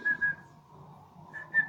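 A pet budgie whistles in short, bright bursts, two quick notes at the start and two more near the end, with a quiet gap between and low household hum underneath.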